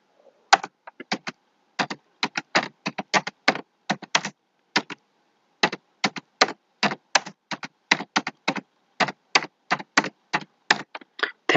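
Someone types on a computer keyboard, and the close, crisp key taps come in quick irregular bursts with short pauses, heard on their own with no talk.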